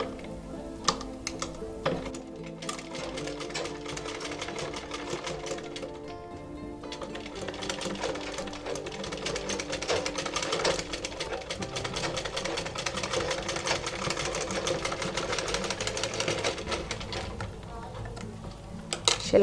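Domestic sewing machine stitching elastic onto a cloth face mask, a fast continuous rattling clatter in bursts with short pauses, close and fairly quiet.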